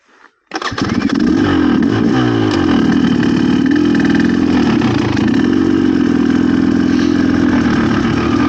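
A GPX TSE300 dirt bike engine starts up and runs loud and close in first gear, a steady buzzing drone with slight revs, continuing without a break.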